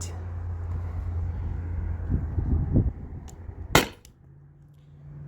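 A Salt Supply S2 gun fires a heavy 7.2 gram aluminum ball over a chronograph on a warm day, giving one sharp, loud crack that fades quickly after a stretch of low rumbling background noise.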